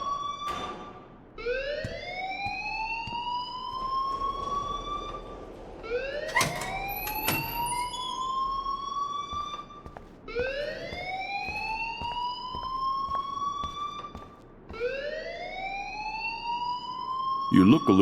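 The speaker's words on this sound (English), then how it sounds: "please turn off that alarm since that's your job" A video game alarm wails in repeated rising sweeps that each climb and hold, coming back about every four seconds, loud and close, with scattered clicks and knocks between the cycles.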